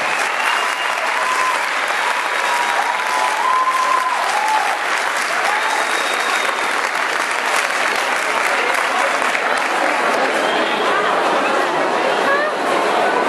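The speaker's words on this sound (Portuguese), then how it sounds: "Vamos lá, galera, vamos aplaudir a galera aqui do Doha." An audience applauds ballroom dancers after a West Coast Swing performance at a dance school, a dense continuous clapping that stays loud and steady, with crowd chatter mixed underneath.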